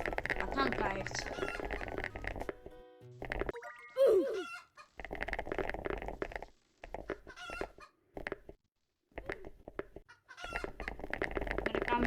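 Clucking of a chicken in a keyboard escape game, with bursts of game sounds and music around it and a person talking over much of it.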